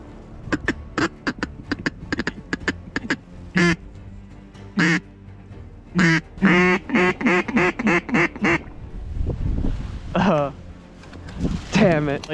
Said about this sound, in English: That was the closest ducks that came in today.